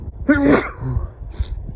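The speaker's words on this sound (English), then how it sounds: "Oh, I'm about to sneeze." A single sneeze with a sharp intake of breath before it, followed by a brief trailing exhale, outdoors on a links golf course with light background noise.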